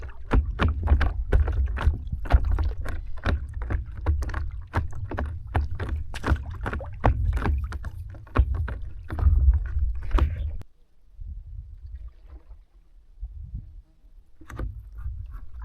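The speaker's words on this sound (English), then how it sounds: "We are just paddling to the other side of the island, around the island." A paddle dips and pulls through lake water from a paddleboard, making a steady run of close splashing strokes with low wind rumble, then the strokes fall quieter and sparser near the end.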